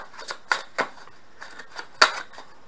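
Tarot cards are handled and drawn during a reading, producing a string of crisp, separate snaps and flicks, close and fairly quiet. The sharpest snap comes near the end.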